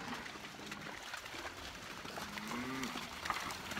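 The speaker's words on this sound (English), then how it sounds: "Let's keep an eye out for those bulls." A bull gives a faint, low moo partway through, set against a steady outdoor background hiss with a light water trickle.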